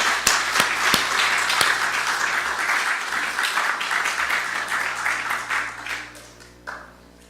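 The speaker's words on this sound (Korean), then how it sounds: "우리가 아이들이 이렇게 키우신 부모님들에게 박수를 한번" A church congregation at a Sunday worship service applauds the children's parents, a dense sustained burst of clapping from many hands that fades out near the end.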